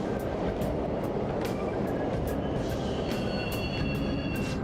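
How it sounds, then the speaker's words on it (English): Subway trains running through a tunnel in the Persona 5 Royal video game, a constant rumbling clatter with rhythmic wheel clicks and faint metallic squeals, loud and steady without speech. "The trains are totally running!"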